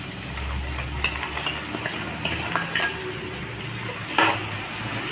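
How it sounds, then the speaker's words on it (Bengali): Potatoes fry in a pan with ginger-garlic paste, cumin, chilli, turmeric and salt. A steady sizzle runs under occasional utensil scrapes and clinks against the pan. "এটা মশলাটার সঙ্গে আলুটাও কষিয়ে নিতে হবে"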